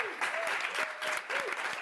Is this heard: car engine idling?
no